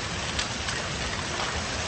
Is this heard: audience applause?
no